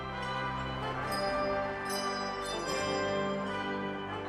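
A 32-member handbell choir rings holiday music in the historic Tabernacle on Temple Square, Salt Lake City, with sustained overlapping bell tones blending into a steady, full, resonant wash, alone without talk.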